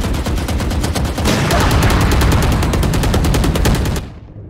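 Automatic gunfire in Valorant, a loud, steady rapid rattle of shots lasting about four seconds before cutting off abruptly.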